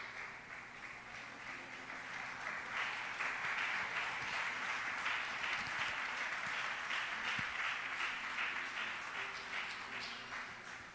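A church congregation breaks into sustained applause during a sermon, a dense, even wash of many hands clapping at moderate distance that holds steady for about eleven seconds before easing off.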